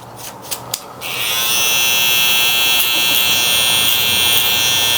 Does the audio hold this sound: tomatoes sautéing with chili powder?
no